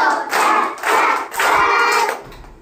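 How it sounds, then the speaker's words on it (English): Hands clapping out a children's body-parts rhyme: three bright, even claps in a steady rhythm, close and clear with no talk over them. "Little hands go clap, clap, clap."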